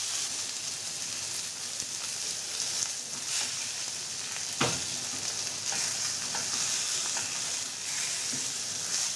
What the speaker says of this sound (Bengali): বদলা মাছগুলো উলট পালট করে ভেজে নেবো